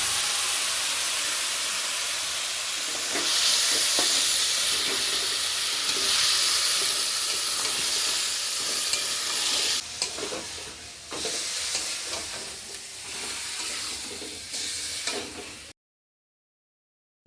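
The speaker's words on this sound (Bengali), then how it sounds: "দেখো মেখে রাখা মাংসটা আমি তেলের মধ্যে দিয়ে দিয়েছি কিছুক্ষণ নাড়াচাড়া করে কষিয়ে নেবো" Marinated chicken frying in hot oil for a chicken egg kabab roll, a loud close sizzle with scraping stirring strokes, the hiss easing and turning choppier before cutting off near the end.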